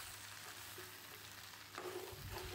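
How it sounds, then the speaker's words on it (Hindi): Vegetables and spices frying together in a pan give a soft, continuous sizzle with a slight lift in intensity near the end; faint and without speech. "कुछ देर तक फ्राई करेंगे मसाले ताकि अच्छे से मिक्स हो जाएं वेजिटेबल और मसाले अपने।"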